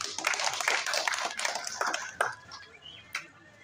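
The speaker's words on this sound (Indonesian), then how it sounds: "Hampir setiap tahun kita beri aplaus buat Pak Kak." An audience applauds at a neighborhood secretariat building inauguration, with quick scattered clapping that tapers off into a few isolated claps and fades within a few seconds.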